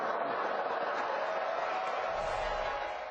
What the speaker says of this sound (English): Okay, so the crowd liked that.